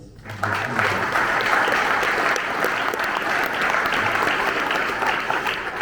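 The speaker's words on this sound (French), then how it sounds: "vous pouvez l'applaudir aussi" Audience at a reception for sports integration educators and clubs breaking into applause, which swells quickly and holds as a dense, even, fairly loud clatter of clapping until the end.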